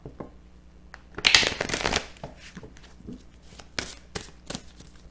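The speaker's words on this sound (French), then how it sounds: "on va prendre quelques cartes avec l'oracle des miroirs" An Oracle des miroirs card deck is shuffled in a quiet room, with soft riffling bursts and scattered taps and flicks of the cards.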